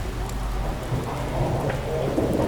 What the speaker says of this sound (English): just like that, it's fucking started raining again